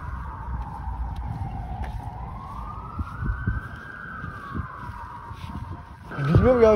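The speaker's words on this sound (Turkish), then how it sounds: "Sirenler çaldı." A siren wails steadily in slow rising and falling sweeps, moderately distant, near a university campus in Turkey, with traffic rumble and a voice breaking in near the end.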